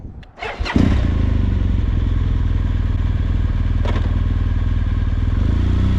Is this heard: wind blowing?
no